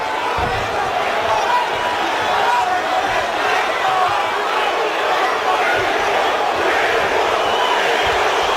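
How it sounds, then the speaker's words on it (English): A boxing arena crowd in San Antonio roars steadily for fighter Cruz, a dense continuous wall of cheering and shouting that never drops, heard at a distance with commentary voices blended in. "The crowd in San Antonio trying to will Cruz to victory"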